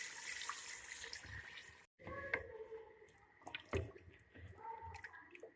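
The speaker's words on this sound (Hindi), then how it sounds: "अब मैं इसके अंदर पानी ऐड कर रही हूँ, तकरीबन 4 ग्लास के करीब हमने इसके अंदर पानी ऐड करना है।" Water poured by the glassful into a pot of Lahori beef paya, splashing and trickling in quiet bursts with a brief pause and a few sharp clinks of vessel contact, fairly faint overall.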